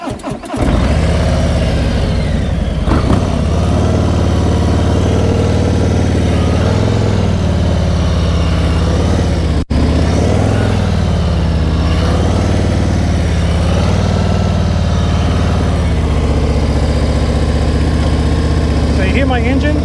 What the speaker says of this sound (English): So you hear my engine?